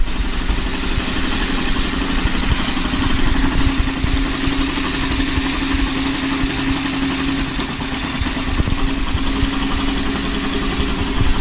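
A Honda Activa scooter engine idles steadily and loudly up close, a continuous even drone with a faint knocking pulse and vibration, no voices over it.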